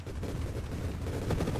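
Dense bursts of explosions in the space shooter game Nova Drift crackle and thump continuously in a rapid, rumbling barrage, with no voices.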